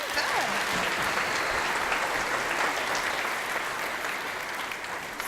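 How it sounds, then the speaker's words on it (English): A live science show audience applauds a volunteer, with sustained dense clapping from a large crowd filling the whole stretch at an even, fairly loud level. "Give her a round of applause."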